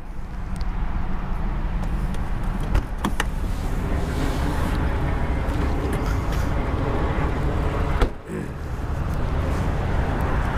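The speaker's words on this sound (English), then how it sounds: "you could probably hear the cars whirring by" Cars whir past one after another on a busy highway right beside the listener, a constant loud traffic roar with a brief dip near the end.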